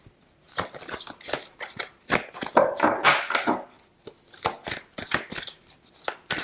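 Tarot cards are laid out one after another on a table, giving a rapid series of crisp slaps, shuffles and flicks with a rustling burst in the middle, close by and fairly quiet.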